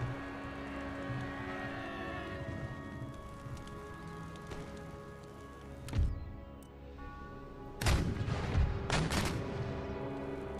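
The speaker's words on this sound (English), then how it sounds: "We are getting some musket shots" Musket volleys crackle in a siege battle in Empire: Total War. Scattered distant shots over a low battlefield rumble build into sharper, louder bursts toward the end.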